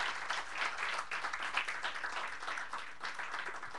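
Congregation in a church applauds together, a dense, continuous wash of many hands clapping at moderate distance with slight swells and dips, lasting the whole stretch.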